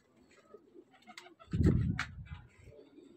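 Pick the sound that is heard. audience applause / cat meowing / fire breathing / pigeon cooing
pigeon cooing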